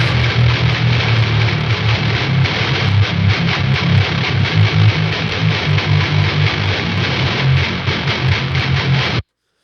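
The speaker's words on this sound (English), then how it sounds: "So for heavy, super heavy parts of songs, I like to put an octave down guitar mixed in there" Thick, heavily distorted octave-down electric guitar playing low chugging riffs, dense and loud throughout, stopping abruptly near the end.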